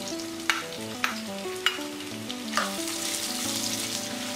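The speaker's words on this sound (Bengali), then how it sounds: "পেঁয়াজটাকে আমি হালকা করে ভেজে নেব" Chopped onion frying lightly with garlic in a pan for taki fish bhorta, a steady soft sizzle broken by a few spatula taps against the pan, heard under quiet background music.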